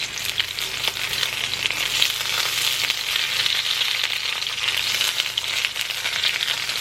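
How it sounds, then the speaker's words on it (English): Sausages frying in a frying pan for a scrambled egg, sausage and bacon sandwich, giving a steady, close, dense sizzle and crackle that carries evenly throughout with no talking. "maybe these sausages aren't really ideal to cook in a frying pan"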